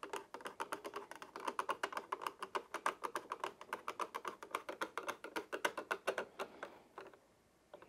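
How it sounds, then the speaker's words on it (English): A flathead screwdriver tightens the stand screw on a PS5, giving a quick, steady run of small, close, crisp clicks for about seven seconds before it stops. "And then we're going to take a flathead screwdriver."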